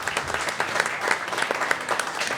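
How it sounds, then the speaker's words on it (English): Audience applause at a live podcast recording, a dense and steady patter of many hands clapping at moderate loudness with no clear talk over it. "Please give yourselves a big round of applause for coming tonight."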